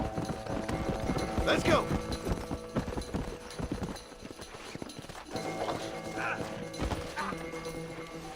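Horse hooves clip-clopping in a cowboy video game, a steady rhythmic trot under game music and a horse's whinny, with someone talking over it.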